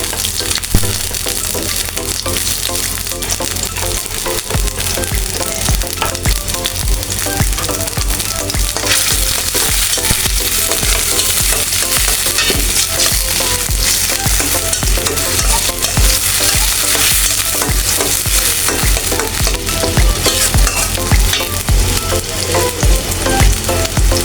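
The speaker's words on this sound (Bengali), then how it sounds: "চিংড়ি মাছ দিয়ে তেল দিয়ে ভেজে দেবো।" Shrimp frying in hot oil in a pan, a loud, continuous crackling sizzle with occasional stirring scrapes, close and unbroken throughout.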